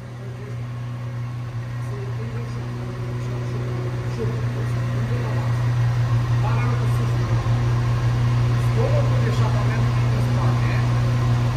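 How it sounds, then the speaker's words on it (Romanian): A car's V12 engine idles steadily just after starting, a continuous low hum that stays close and even throughout, with voices talking quietly in the background. "Stai un pic să se stabilizeze relantiul"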